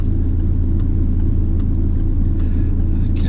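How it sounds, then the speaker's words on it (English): A Ford Fiesta drives past on a road in Headington, Oxford, heard from inside a car waiting on a hill, a steady low engine rumble continuing evenly throughout with faint higher ticks. "So it looks clear after this Fiesta that's going by"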